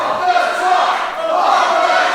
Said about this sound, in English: Crowd are certainly behind it again.